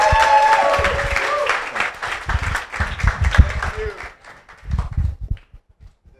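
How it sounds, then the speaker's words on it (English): An audience applauds at a TEDx talk, with clapping in bursts that thin out and fade after a few seconds, under background noise and brief voices. "please give a round of applause"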